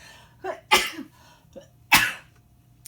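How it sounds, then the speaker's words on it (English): Two sharp sneezes, each preceded by a quick inhale, close and loud against a quiet room hum. "I'm gonna sneeze."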